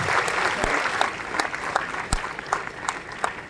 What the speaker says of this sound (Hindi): एक बार आप जोरदार तालियां इन भैया के लिए